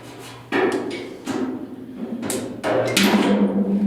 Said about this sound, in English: Weld the nail on.